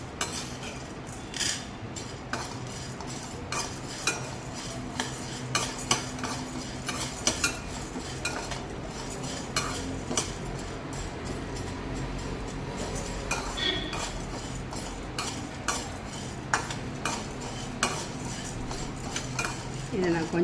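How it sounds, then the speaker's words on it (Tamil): A spoon stirs idli podi ingredients dry-roasting in a pan, giving repeated scraping and metallic clinks in an irregular, continuous rhythm, close and moderately loud, with faint background voice. "கை விடாமல் வறுத்துட்டா கைவிடாமல் வறுக்கணும்."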